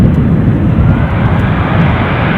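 A passenger aircraft at Edinburgh airport, a loud, steady engine roar close by that fills the whole clip with broadband rumble and no voices.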